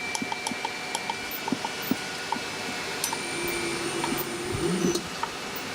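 A late 1940s Crompton Parkinson 2 HP three-phase electric motor runs with a steady hum, broken by light ticks and clicks, and rises slightly louder toward the end.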